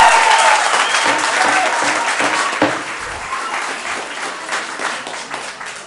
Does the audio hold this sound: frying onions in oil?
no